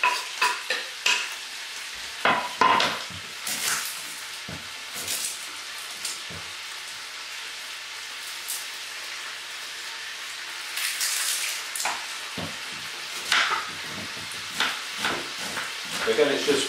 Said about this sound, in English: Just turn over the meat, and we can bob the garlic in the other pan.